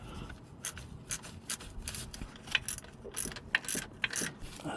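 A ratchet wrench tightens a 14mm bolt on a Toyota Yaris T Sport starter motor, producing a run of faint, close, irregular clicking strokes with soft scraping between them; no talking.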